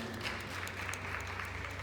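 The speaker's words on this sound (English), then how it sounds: "Please give him a round of applause." An audience at a digital innovation week event claps briefly, a steady patter of many hands over a low background hum.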